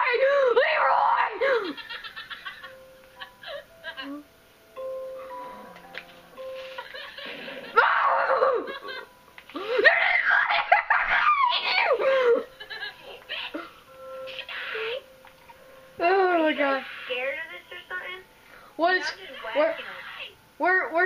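Several people screaming and shrieking with laughter while playing Minecraft on Xbox 360 at night, loud overlapping yells in bursts across the whole stretch, mixed with excited talking.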